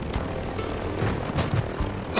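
Helicopter blades in Call of Duty Modern Warfare III, a loud continuous rotor drone with rhythmic chopping pulses, alone without talk.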